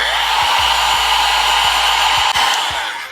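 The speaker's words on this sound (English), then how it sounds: "I get the blow dryer and dry it." Hair blow dryer running continuously while drying a wig during installation, a loud steady whirring hum with a brief dip near the end, no talking.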